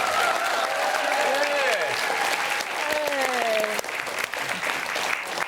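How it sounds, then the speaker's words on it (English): A studio audience on a cooking show applauds steadily while people talk over the clapping. "Give them a round of applause, ladies and gentlemen."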